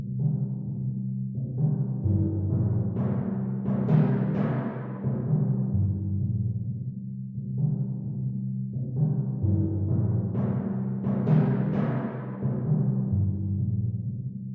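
A sampled keyboard part plays a repeated phrase whose velocities are edited so the notes swell in a crescendo and fall back in a decrescendo, heard twice, clear and unaccompanied.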